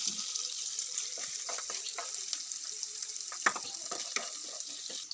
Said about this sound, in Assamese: পিঁয়াজখিনি অকণমান ভজা যাব দিছোঁ। লগতে আদা নহৰুৰ পেষ্টটো দি দিছোঁ।